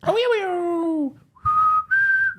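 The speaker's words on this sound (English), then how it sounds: "He did the whistling in a version of the theme from The Good, the Bad and the Ugly." Melodic whistling of the theme from The Good, the Bad and the Ugly: a swooping opening phrase followed by two long held notes, clear and close, with no other sounds.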